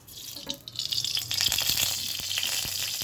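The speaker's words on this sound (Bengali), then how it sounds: "তেলটা দিয়ে দিলাম কড়াইতে।" Oil poured into a wok and starting to sizzle, rising from a quieter start into a steady hiss with scattered small crackles and pops, close and without speech.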